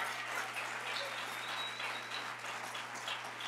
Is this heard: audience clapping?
yes